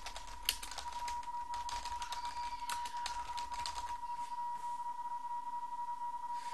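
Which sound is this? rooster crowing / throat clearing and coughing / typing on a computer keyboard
typing on a computer keyboard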